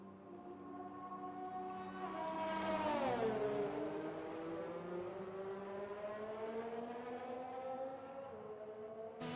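A Formula 1 race car in the F1 2020 video game at the Austrian circuit pulls into the pits, its engine a loud, sustained whine that swoops down in pitch and then holds steady, with no talk over it.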